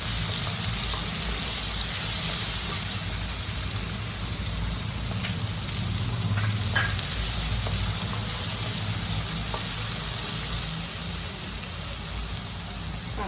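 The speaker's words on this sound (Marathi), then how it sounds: "कांदा आपला आता लालसर भाजून झालेला आहे." Onion frying in a pan for matar paneer, a steady hissing sizzle with faint crackles, continuous and close, with a low background hum underneath and no talk.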